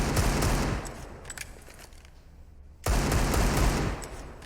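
Desert Eagle gunfire in a Counter-Strike match comes as rapid clusters of loud shots, a dense burst, a brief lull with a few sparse cracks, then another loud burst.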